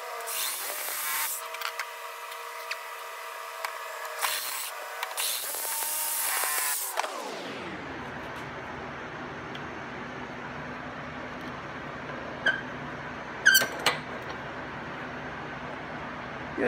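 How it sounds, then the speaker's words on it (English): A reciprocating saw cuts through an axe handle clamped in a vise with soft jaws, buzzing harshly and unevenly for about seven seconds before stopping, leaving quieter room noise with a few faint knocks. "And I'm going to try the reciprocating saw now."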